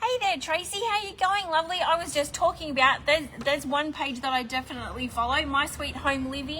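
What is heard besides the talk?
No distinct noise like a dog, phone or traffic.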